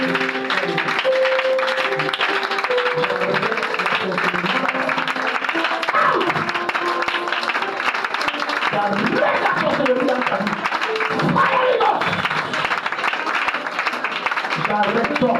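Applause and clapping from a congregation at a church prayer service, sustained and fairly loud, mixed with voices speaking and calling out over it.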